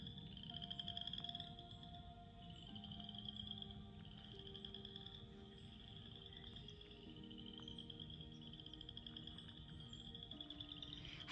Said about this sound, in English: there's lots of frogs, lots of birds